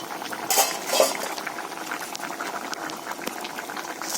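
Egg and potato curry simmering in a pot, soft continuous bubbling with a couple of brief utensil clinks near the start.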